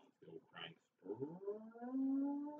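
A voice imitates an old hand-cranked air raid siren, following a couple of short spoken bursts with a rising, swelling wail that climbs and holds near the end, moderately loud and close.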